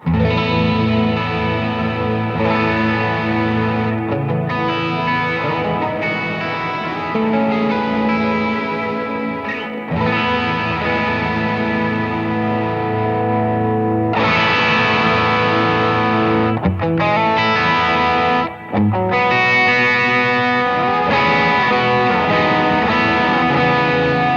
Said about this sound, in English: I can even put a bunch of distortion, and it's still only reacting to that clean guitar signal.